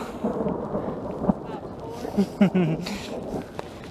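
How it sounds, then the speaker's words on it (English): Low rumbling thunder rolls under rain mixed with snow or near-hail at exposed Lake Virginia, with a few sharper bursts near the middle; a person speaks briefly over it. "Got the thunder."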